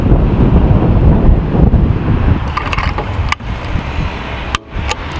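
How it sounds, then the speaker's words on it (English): Strong wind buffets the microphone outdoors during an oil change on a 1980 VW Rabbit pickup truck, a loud, steady rumble that dips briefly near the end and carries no talk. "It's windy."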